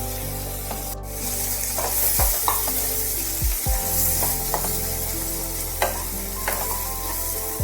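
Capsicum and bell peppers sautéing in melted butter, a steady sizzle under repeated scraping and stirring, with several knocks of a spatula against the pan.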